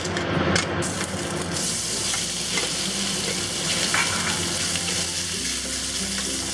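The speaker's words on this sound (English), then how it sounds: "We're going to add oil and we're going to cook the shrimp off first." Shrimp frying in oil in a pan over medium-high heat for a stir-fry with eggs, a steady close hiss and crackle with faint scraping throughout.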